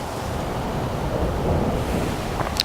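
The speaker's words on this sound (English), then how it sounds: "It's windy down here today" Steady wind roars and buffets a microphone throughout on a golf course, a dense low rumble with no voices.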